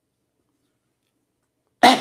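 Near silence, then a single sudden, harsh cough bursts out close up at the very end.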